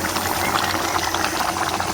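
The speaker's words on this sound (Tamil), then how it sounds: "நாட்டுக்கோழி நல்லா வெந்துட்டு இருக்குதுங்க" Country chicken curry simmers in a pot for village-style cooking, giving off a steady, close bubbling and sizzling boil with no voices.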